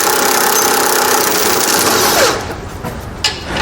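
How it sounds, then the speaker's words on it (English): An impact gun rattles off nuts with an 18mm socket on a 2017 Jeep Wrangler frame, a loud continuous buzzing hammer for over two seconds, then stopping abruptly, leaving a brief clank. "We're gonna remove these nuts using an 18mm socket."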